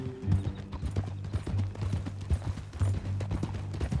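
Horse hooves clip-clop in a steady walking rhythm in the video game Red Dead Redemption 2, close and fairly loud, with a low drone underneath.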